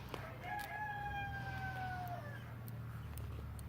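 A rooster crows one long drawn-out call in a backyard where chickens are kept, over a steady low hum and faint clucks, moderately distant.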